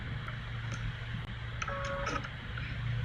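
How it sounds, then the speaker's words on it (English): A sewing machine runs in a short mechanical burst over a steady low hum, with faint clicks around it; no talking. "with my sewing machine."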